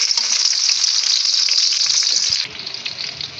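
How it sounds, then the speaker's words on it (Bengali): Onions fry in hot white oil in a pan, a loud, dense, continuous sizzle that abruptly drops to a softer hiss near the end. "এখন আমি এটা লাল করে ভেজে নেব।"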